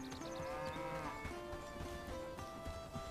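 Cows mooing in the medieval village-building game Bellwright, their calls layered over a dense, continuous wash of game ambience and music at steady loudness, with no speech.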